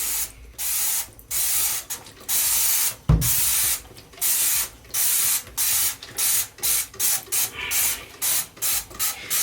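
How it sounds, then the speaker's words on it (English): Repeated short bursts of a spray bottle of Dawn Platinum dish soap onto a Weber Q 2400 electric grill, hissing pump after pump in a quick irregular rhythm, close by with no talking. "take your Dawn, again, your Dawn Platinum, and you're gonna just spray liberally"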